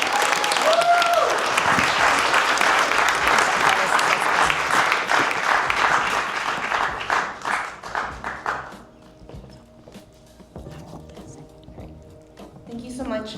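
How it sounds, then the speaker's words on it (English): A big round of applause at a women-of-the-year awards ceremony, loud dense clapping from a large audience that swells then thins out, with voices and cheering mixed in before it fades. "Big round of applause for her"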